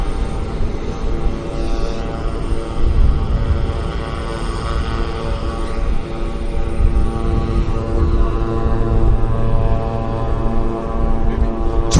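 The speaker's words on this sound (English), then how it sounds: "This is a Twin Otter on floats." A Twin Otter floatplane coming in to land near Vancouver Airport, its propeller engines droning steadily and loudly throughout, a continuous close drone with no talking.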